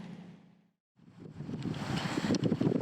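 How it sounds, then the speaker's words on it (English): A westerly force 4 breeze buffeting a sailboat running downwind, loud rushing wind noise over the microphone with a brief drop to near silence before the gusts build again, no speech. "we've got a lovely breeze just starting to blow"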